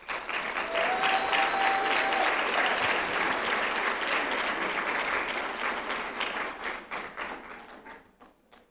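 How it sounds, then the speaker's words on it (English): An audience at a 2019 College of Health Related Professions convocation applauds honor society students with sustained, dense clapping that tapers off into scattered claps at the end. "Will the following students please stand for applause?"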